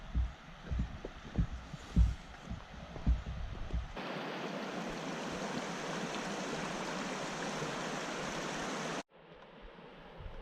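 A backcountry river in Jasper National Park on the Brazeau Loop rushes with a steady, broad hiss that comes in after a few seconds of low thumping handling noise, then cuts off abruptly near the end.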